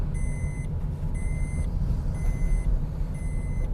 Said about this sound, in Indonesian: Safety belt penumpang, pasang dulu biar nggak berisik.